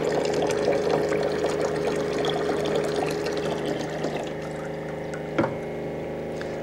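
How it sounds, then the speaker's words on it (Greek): Filtered clean water runs steadily from a kitchen tap fitted with a Camelot water filter, a continuous close pouring hiss with a brief knock near the end, and no voices. "πως έρχεται, καθαρίζει, παίρνει μέσα και βγαίνει ακριβώς το νερό μου καθαρό υγιεινό νερό"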